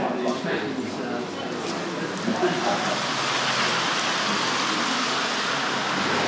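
Rain pours outside during a cycling trip in South Australia between Burra and Clare, a broad steady hiss of falling water close by, continuous throughout with a brief voice near the start.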